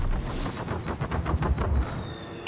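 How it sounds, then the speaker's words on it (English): A British battlecruiser's anti-aircraft guns in a naval video game fire rapid, dense bursts of thumping shots in a continuous rattling barrage, moderately loud and unbroken for the whole stretch. "Anti-aircraft gun crews are on full alert."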